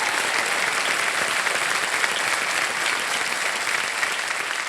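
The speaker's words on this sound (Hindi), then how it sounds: "एक बार फिर जोरदार तालियां" Loud, dense applause from a large studio audience on the Kaun Banega Crorepati quiz show, steady and sustained throughout with no talk over it.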